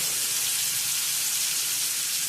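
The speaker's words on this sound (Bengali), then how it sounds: "তেলটা তেতে গেছে, আর একটু একটু করে ওই কাঁচা কলা খোসা বাটাটা একটু একটু করে কড়াই ছেড়ে দেবো।" Raw banana peel paste sizzling steadily in hot oil in a wok, a close, even hiss with no pauses.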